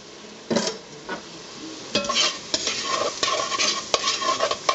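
A spoon stirs paprika into chicken sizzling in a pan. Irregular scraping and clinking strokes sit over a low, steady fry, close and fairly loud.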